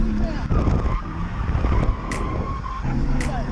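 A BMW drifting at a drift event, with clutch kicks, makes a loud engine roar broken by tire squeals and skidding chirps, while people talk over the din.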